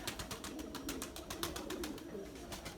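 Pigeons coo steadily at a breeding loft, a soft continuous low murmur of overlapping calls, fairly close, with faint rustling and chirpy higher noise over it.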